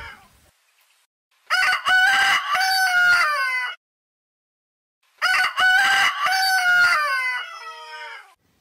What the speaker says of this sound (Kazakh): Бұл әтеш. Әтеш шақырады.